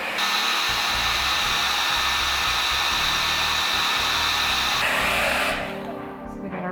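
A hair dryer blows steadily and loudly at close range while heating plastic doll ankle parts, then the airflow shifts and fades toward the end.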